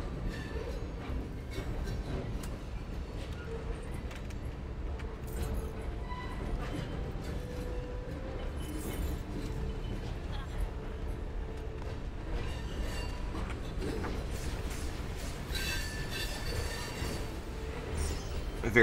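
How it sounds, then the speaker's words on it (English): Loud train rumbling past close by, a steady low roar with metallic clatter that fills the whole stretch alongside game audio. "The train is just, it's deafening."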